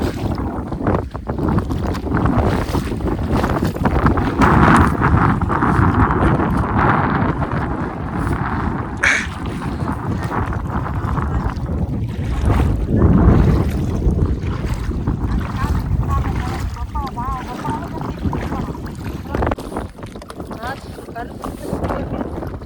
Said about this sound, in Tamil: காற்று பாருங்கள், வடை காற்று அடிச்சிருக்கு.